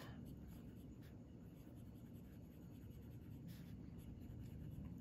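A TWSBI Eco fountain pen with a medium nib scratches steadily across paper, close and quiet over a low room hum, with no talking.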